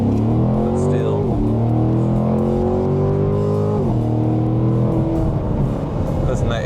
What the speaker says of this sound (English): Doesn't that 8-speed popping off some shifts?